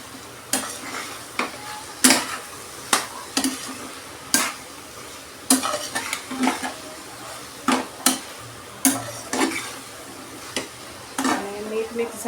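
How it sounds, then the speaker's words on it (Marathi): A spoon stirring okra curry (bhendi rassa bhaji) in a pan, with a dozen or so sharp scrapes and knocks against the metal at an uneven rhythm over a soft sizzle, heard close up. "मिक्स करून घेऊया."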